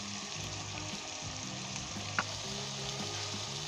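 Steady sizzling of mutton frying with tomato puree and browned onions in a pan, a continuous crackle with a brief louder pop partway through, no voices.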